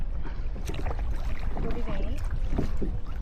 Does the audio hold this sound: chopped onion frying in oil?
no